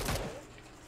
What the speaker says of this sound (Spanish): De atrás también escucho tiros